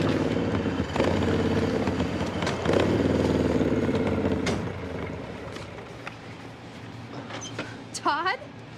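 A motorcycle engine rumbles and revs nearby, its roar swelling and fading with some clatter, followed by a few short squeaky calls near the end.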